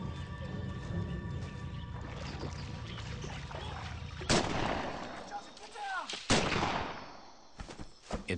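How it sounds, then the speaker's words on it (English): Japanese sniper fire in a WWII jungle battle: a few sharp, isolated rifle cracks ring out over a low rumbling background, spaced seconds apart and moderately distant, with no voices. "Japanese snipers, expertly camouflaged in the dense brush, take shots at the Marines"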